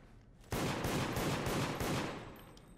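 Rapid, loud automatic gunfire from the video game Deceit bursts in abruptly and keeps going as a dense volley of close shots, then tapers off toward the end.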